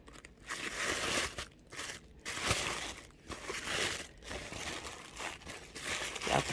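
Paper wrapping from a subscription box item crinkles and crumples up close in a run of irregular rustling bursts with short pauses, quiet and with no talk.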